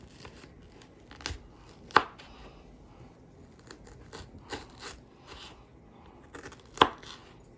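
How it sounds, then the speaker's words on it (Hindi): Onion chopped with a knife on a cutting board, a few separate sharp cuts with quieter slicing taps between, close and fairly soft, without speech. "अब मैं अनियन चॉप कर लूंगी"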